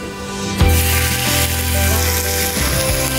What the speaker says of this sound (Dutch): En dan ga ik ze lekker bruin bakken.